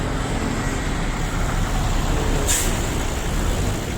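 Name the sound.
jeepney passing in street traffic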